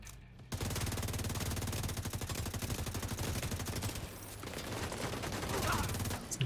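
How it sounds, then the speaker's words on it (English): Dense, continuous video-game gunfire, rapid automatic bursts and volleys sounding close and loud for several seconds, with a brief lull before the shooting picks up again. "Some bad shooting on my part."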